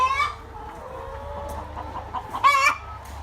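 Laying hens of Marans, white ermine Sussex, Coucou de Rennes and ash-grey breeds cluck and call on a farm, with two loud bursts of cackling at the start and near the end over a quiet background.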